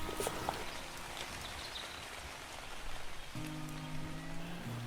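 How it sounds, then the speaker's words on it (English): Steady rain falls on a wet-weather camp in the Ruahine Range, a dense, even patter up close, with a low tonal hum coming in near the end. "The rain's eased off a little bit"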